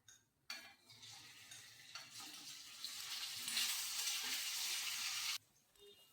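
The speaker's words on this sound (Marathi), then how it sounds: "तूप गरम झालंय, आता आपण हे पनीर त्यात तळून घेऊ।" Paneer fries in hot ghee in a pan, a bright continuous sizzle that starts abruptly, swells and then cuts off, with faint stirring underneath.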